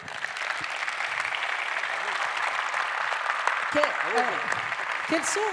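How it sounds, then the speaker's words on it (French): An audience applauds award winners at a regional talent honours ceremony in Saône-et-Loire, with sustained, moderate clapping, a voice speaking over it, and a few bird-like chirps near the end. "Bravo, on peut les applaudir."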